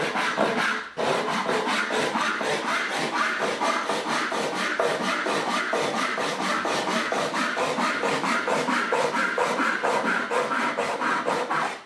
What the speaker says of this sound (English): sawing straight to the line and sawing it so quickly